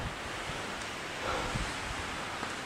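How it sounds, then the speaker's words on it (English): Strong wind buffets a hilltop above the sea, a steady loud roaring rush across the microphone with a brief gust swell midway, no voices. "It's so windy up here, it blew my hat straight off."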